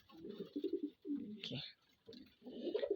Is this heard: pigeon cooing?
yes